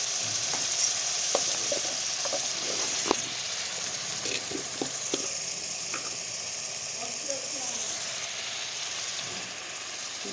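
Onions sizzle steadily in hot oil in a pan for an Odia fish and potato curry with mustard masala, with occasional scraping and clicking stir strokes close by throughout.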